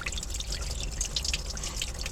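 Water drains out of a Bayliner boat engine during winterization, a steady trickling splatter with scattered drips over a low rumble, close and continuous.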